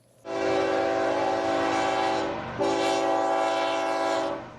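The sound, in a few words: train passing on the BNSF railroad main line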